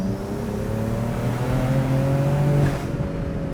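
A tuned BMW 335 engine of over 600 hp climbs in pitch as it revs on a manual downshift, holding a loud, steady drone before dropping off sharply near the end.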